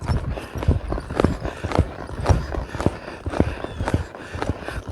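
A horse lopes in a counter bend on soft footing, a steady rhythmic drumming of hoofbeats with soft thuds about every half second, close by, with faint rider breathing and tack sounds, no clear talk.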